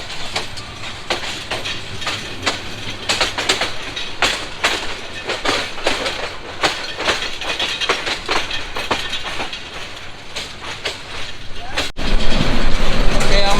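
The Mohanganj Express rolls through a station with rhythmic clickety-clack of wheels over rail joints, loud and close, and the rumble swells sharply near the end as the train passes the platform.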